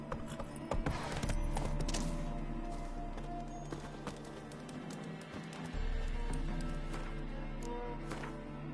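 Horse hooves clip-clop in The Witcher 3 video game, quiet rhythmic thuds over a low game ambience with faint background tones.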